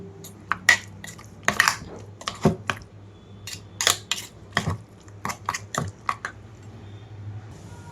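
A spoon scrapes and clinks against a steel grinder jar and bowl as dondakaya chutney is scooped out, a string of short irregular metallic taps and scrapes, close and alone.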